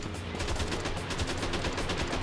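Rapid AK rifle fire in the stylish shooter Jack Styler, a dense, continuous burst of shots rattling loudly throughout.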